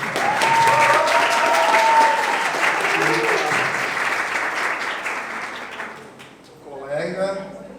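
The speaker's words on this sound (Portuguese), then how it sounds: "Um aplauso." Applause from an audience gathered at the Museu da Fotografia de Fortaleza, loud and dense for about six seconds, with a voice talking over it at first before the clapping fades and speech carries on alone.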